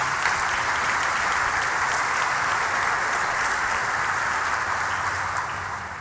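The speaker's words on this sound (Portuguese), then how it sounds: "Vamos aplaudir esse testemunho maravilhoso." A church congregation applauds after a testimony: dense, even clapping holds steady and loud, easing off slightly in the final moment.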